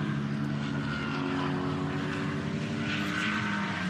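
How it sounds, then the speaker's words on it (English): Mercedes GT4 race car engine grumbling during qualifying at the Most circuit, a loud, sustained low menacing drone heard steadily throughout, with no talk over it. "Mercedes always just sound so fantastic. A wonderful, menacing grumble."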